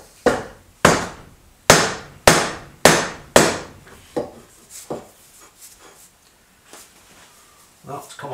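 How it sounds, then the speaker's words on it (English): A hard non-metal, soft-faced hammer taps a part loose on an Indian Trailblazer motorcycle: five loud, evenly spaced blows, then a string of softer, quicker taps and a final knock, each with a short decaying ring. "with a soft face, well, hard but not metal hammer, we'll see if we can tap it off"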